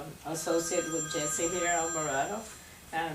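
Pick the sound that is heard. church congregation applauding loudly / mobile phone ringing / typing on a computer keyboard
mobile phone ringing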